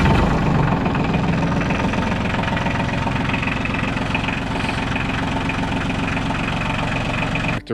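A New Holland TC30 compact tractor's diesel engine runs at a steady idle throughout, a loud, continuous rumble with a knocking, even rhythm that holds close and constant until a brief dip at the very end.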